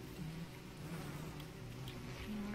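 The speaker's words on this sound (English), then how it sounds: "I'm making the bees attack it." Bees from Don't Starve Together swarm in a continuous close, droning buzz with wavering pitch, steady and alone for a few seconds.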